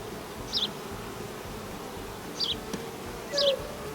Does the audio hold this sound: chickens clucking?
no